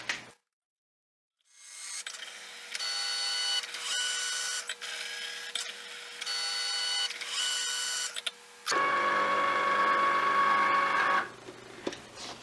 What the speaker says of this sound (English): cut some pockets with my Cricut machine